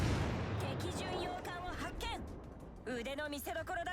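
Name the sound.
warship naval gunfire, video game World of Warships Legends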